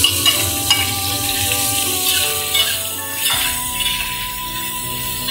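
Cured pork (la rou) frying in hot oil in a wok, a dense continuous sizzle with a brief surge partway through, close and loud, no talking.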